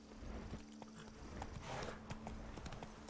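Hooves of Roach, the horse in The Witcher video game, clip-clop in a quick regular rhythm on the ground, close and clear over a low steady hum from the game.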